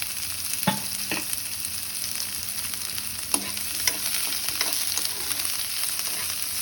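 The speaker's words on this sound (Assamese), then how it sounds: "তেল গৰম হৈ গৈছে, পিঁয়াজ দিছোঁ।" Two large onions fry in hot oil for a fish intestine and brinjal dish, giving a steady close sizzle broken by occasional clicks and scrapes of stirring.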